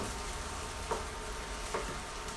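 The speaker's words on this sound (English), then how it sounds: "And then you just let it fry until it's crispy and golden brown." Tofu deep frying submerged in hot oil gives a steady, quiet bubbling sizzle throughout, with a few faint clicks or stirring touches standing out briefly.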